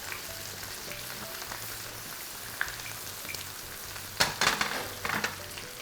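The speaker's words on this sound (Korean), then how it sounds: "고기가 지금 막 구워지고 있는데" Iberico pork neck sizzles steadily in a hot pan with butter, a continuous crackling fry broken by a few louder spits and pops near the end; no one speaks.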